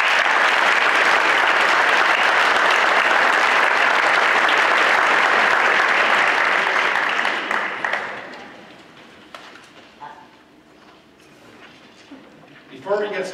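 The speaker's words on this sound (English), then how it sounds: "Let's give all those people a round of applause." A crowd at a school athletic awards night applauds loudly and steadily for several seconds before the clapping thins out and fades. Scattered voices and a few claps linger afterward.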